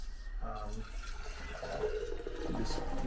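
Milk is poured from a carton into a glass bottle in a home kitchen, producing a steady gurgling, splashing stream of liquid that builds as the bottle fills, with a voice speaking over it.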